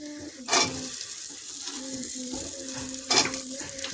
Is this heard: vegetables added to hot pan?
yes